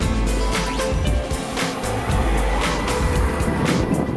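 Audi TT with a 2-liter turbo engine driving, a steady loud engine and road roar throughout with rising surges as it accelerates, no talk.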